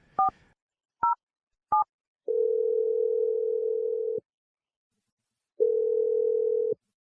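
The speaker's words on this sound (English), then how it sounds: "We're dialing a phone number" Three quick keypad beeps sound, followed by two long, steady phone-line tones separated by silence.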